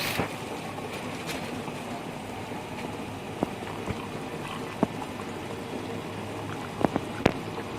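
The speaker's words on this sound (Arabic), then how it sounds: "وهكمل بقى بقيه الكوبايه ميه." Water pours steadily into a glass holding three large spoonfuls of starch, a continuous close splashing wash with a few sharp clinks of the glass near the end.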